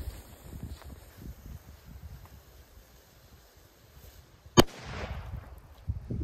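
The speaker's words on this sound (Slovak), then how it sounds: "tak ešte tu mám taký menší výber petard." A small firecracker goes off in a single sharp, loud bang outdoors, with rumbling wind noise before and after it.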